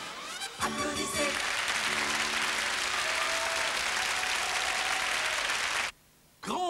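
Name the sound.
applause in a Danone TV advert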